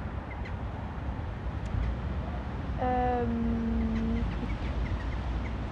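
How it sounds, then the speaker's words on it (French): A rooster crows once outdoors, a single drawn-out call at moderate distance over a steady background hiss, with no clucking clearly evident. "c'est un coq lui."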